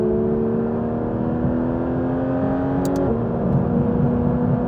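A Porsche GT3 RS engine drones steadily from inside the car while driving, a close, even hum whose pitch holds and then shifts slightly partway through, with road noise underneath and a faint click.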